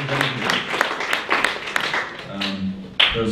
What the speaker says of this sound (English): Let's give Mike one more round of applause.